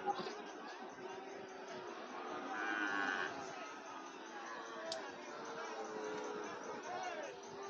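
Cattle moo loudly and repeatedly amid a busy crowd at a cattle market near the border, with people talking and chattering throughout the background.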